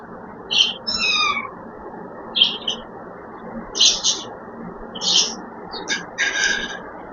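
A small kitten gives a string of short, high, thin meows, about seven or eight calls spread unevenly over several seconds, close up against a quiet low background murmur.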